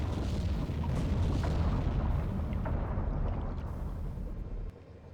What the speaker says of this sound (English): Still depth charges exploding